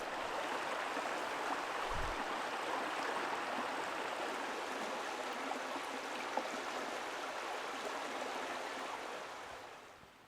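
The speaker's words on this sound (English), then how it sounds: "So there's another set of rapids into a nice deep hole here" Rapids on a mountain creek rush in a steady, broad wash of water, continuous and fairly close, with no voices and a slight fade at the very end.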